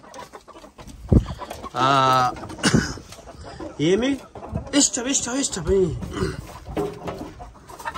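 Adler chickens and roosters cluck and call close by in a poultry yard, with one loud sustained crow-like call and several shorter clucks, while someone talks over them.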